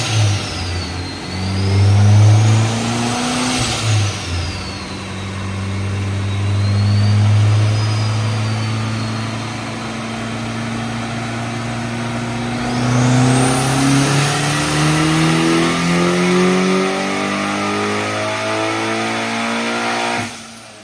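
A Nissan S15 engine revs hard on a dyno, climbing repeatedly through the rev range with loud, sustained mid-pitched engine roar and rising harmonics, close and dominant throughout.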